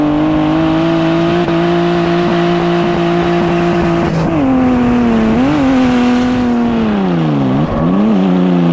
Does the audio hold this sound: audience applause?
no